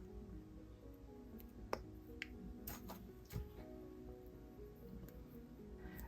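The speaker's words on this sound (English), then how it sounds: "And now I need to cut off the excess, so I'm going to use my flush cutters." Flush cutters snip off excess jewelry wire while a crystal and agate bead necklace is made: three or four small, sharp, quiet clicks, spaced irregularly against near-silence.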